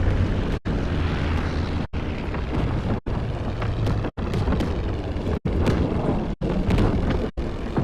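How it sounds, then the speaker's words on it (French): Heavy anti-aircraft flak bursts around a WWII bomber formation in Call of Duty WW2, a continuous loud rumbling barrage of booms and engine drone, cut by brief dropouts roughly every second. "On a des tirs anti-aériens devant nous."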